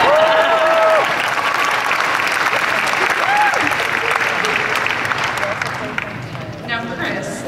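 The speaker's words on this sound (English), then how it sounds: "You can clap now." Audience applause at a fan expo Q&A, a dense sustained burst of clapping from a large crowd that continues loudly for several seconds, with cheering and voices mixed in.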